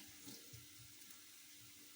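Tap water runs steadily into a sink while rice is washed, a constant hissing stream with soft sloshing and clinks of grains and bowl underneath, faint and close with no voices.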